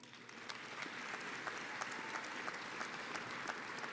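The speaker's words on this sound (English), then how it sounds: "Why don't you give them a little round of applause?" Graduation audience at a high school ceremony clapping in steady, dense applause that holds at an even level throughout, a crowd of many hands filling the space.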